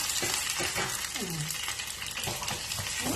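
Garlic and curry leaves frying in oil in a pan, a dense continuous sizzle with a few stirring clinks and scrapes close by, and faint murmuring underneath.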